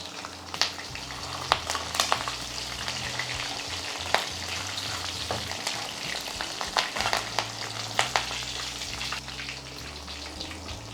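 Curry leaves are dropped into hot oil with frying boneless chicken 65 and give off a dense, continuous crackling sizzle. Sharp pops and spatters keep breaking through it, close and fairly loud, with no speech.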